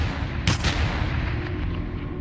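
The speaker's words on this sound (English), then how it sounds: "she hears gunshots" Gunshots ring out outside a McDonald's, one sharp crack standing out clearly against a loud, rumbling background, followed by a fainter report shortly after.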